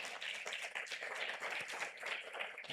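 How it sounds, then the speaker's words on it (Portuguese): Church congregation clapping and applauding at a women's worship service, a steady, dense wash of hand claps sustained throughout at moderate level. "Você pode aplaudir o Senhor?"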